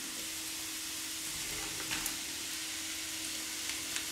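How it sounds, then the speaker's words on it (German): Steady, dense sizzling of apples and raisins frying in butter in a pan, a constant crackling hiss with occasional small pops, no voices. "dann können wir auch gleich alles in die Pfanne geben"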